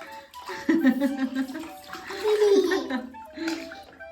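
Water splashing in a child's sink-or-float toy play, a couple of bursts of sloshing and splashing with a voice and laughter mixed in, close and moderately loud.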